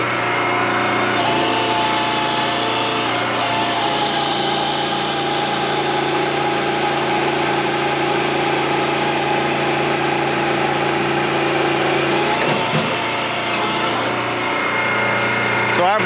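A firewood processor with a steady engine drone splits a knotted oak log, its loud continuous mechanical roar broken by creaking, rubbing wood sounds and a brief surge near the end.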